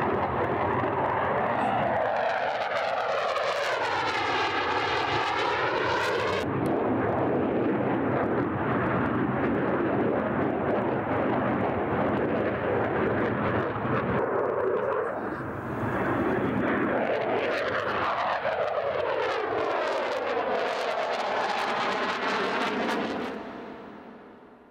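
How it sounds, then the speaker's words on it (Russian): A Su-34 military jet flying over Lipetsk airfield, its engine roar loud and sustained, rising and falling in pitch as it passes near and then moves away. "Вы имеете уникальную возможность увидеть один из первых полетов самолета Су-34 на Липецком аэродроме."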